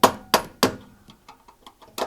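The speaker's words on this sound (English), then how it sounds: "Just have to knock that lock ring tight" An electrician's hammer knocks a lock ring tight on a hot tub electrical panel: three sharp, ringing metallic strikes in quick succession, a few softer taps, then one more firm hit, close and distinct.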